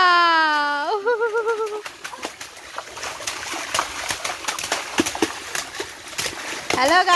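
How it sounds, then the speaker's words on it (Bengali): A child splashing in collected tap water while bathing, with irregular bursts of splashes and drips running beneath an adult's speaking voice, close and fairly loud. "আজকে কলের জল, কলের পরে জলটাকে জমিয়ে দেখো দুষ্টুমি শুরু করেছে"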